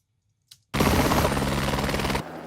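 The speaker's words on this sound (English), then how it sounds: "I have all these samples of helicopter" A helicopter sound effect sample with a sudden onset of dense, loud rotor chop and engine roar that holds steady for about a second and a half before dropping off.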